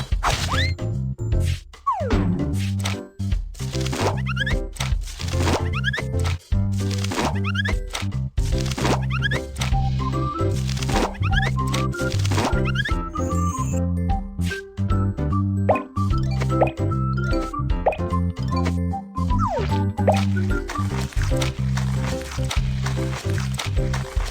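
In the Baby Panda kids' cooking video game, a pineapple is chopped with a series of quick cartoonish plops and thwacks. The cuts land in a fast, steady rhythm over bright, bouncy game music.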